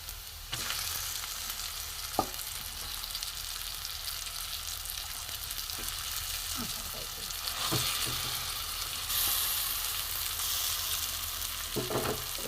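Green pea paste frying in a pan after onions, a steady close sizzle with scattered scraping and stirring knocks of a spatula throughout.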